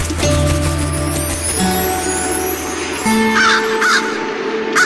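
Crow cawing loudly and close, a series of harsh repeated caws layered with other tonal sounds over a few seconds, with no talk.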